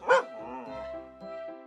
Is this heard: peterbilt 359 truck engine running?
no